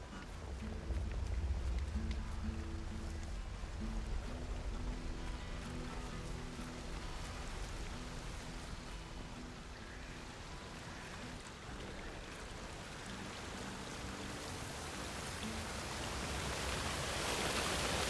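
A waterfall in the video game Atomfall pours as a dense, continuous broadband rush that stays loud and steady from start to finish.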